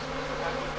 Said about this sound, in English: I got bees.